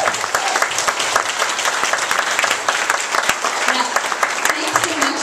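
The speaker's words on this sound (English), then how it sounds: "I think we all owe them a round of applause for that" Audience applause at a political wrap-up event, a steady dense wash of many hands clapping that runs throughout, loud and close, with scattered sharper claps standing out.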